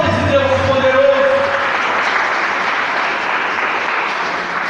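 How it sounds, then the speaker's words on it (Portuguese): Church congregation applauds during an evening worship service, a dense wash of clapping that carries on for several seconds while a sustained voice or instrumental tone sits over the start. "Então aplauda esse Deus poderoso."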